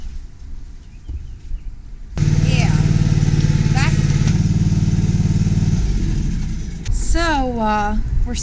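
A Cub Cadet ZT2 zero-turn mower engine starts up and runs at a steady idle, loud and close, with bird chirps heard around it.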